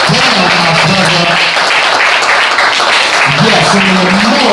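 An open mic audience at a Red Lobster claps and applauds loudly and continuously, with a voice speaking over the dense clapping.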